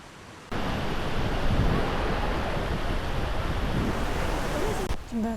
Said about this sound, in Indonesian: arus sungai di bawah tuh kelihatan kuat banget dan airnya terus bergerak